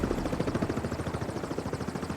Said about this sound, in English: I kept seeing a helicopter going around and flying by